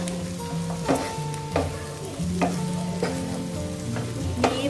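Sliced okra frying in oil in a pan while being stirred, a steady sizzle broken by a few sharp scraping strokes of the spoon at regular intervals, close and clear with no voices.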